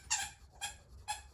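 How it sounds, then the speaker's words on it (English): A dog gives three short, high whining whimpers, evenly spaced and fairly close, with a quiet room behind. "That was my dog."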